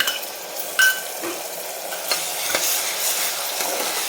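Spices are sautéed in a pan with onion, ginger and garlic paste for a spicy mutton masala curry. A soft, steady sizzle runs under occasional utensil scrapes and clinks as the mixture is stirred.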